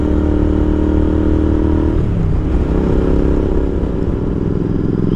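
A Royal Enfield Interceptor motorcycle engine runs loud and close with a steady throaty drone, its pitch easing and shifting partway through as the bike rides on, with no talking.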